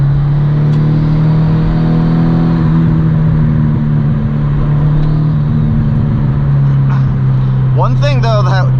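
A car with flared wheel arches pulls away on a road, its engine droning loud and close as the steady note climbs through the gears, and a voice speaks briefly near the end.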